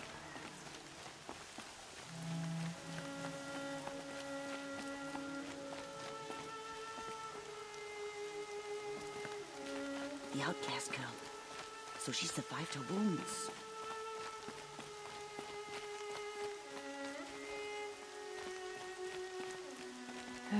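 Steady rain falling in the video game Horizon Zero Dawn, a soft continuous patter running under the whole scene with game music tones and spoken dialogue layered over it.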